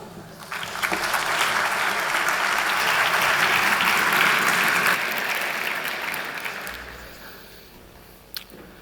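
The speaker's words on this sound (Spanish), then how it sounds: "Un aplauso." Conference audience applauding to welcome a speaker on stage, the clapping swelling up within the first second, holding loud and full for several seconds, then tapering off near the end.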